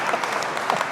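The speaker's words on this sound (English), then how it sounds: "You guys can clap for that one too." A brief burst of audience clapping at a healthcare discussion, dense and steady, close and moderately loud.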